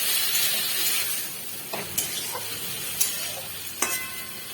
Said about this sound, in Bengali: এটাকে আমি হালকা করে নাড়াচাড়া করবো।